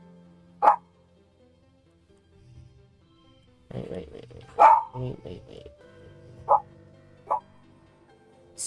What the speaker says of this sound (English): My dog's barking, if you can hear him.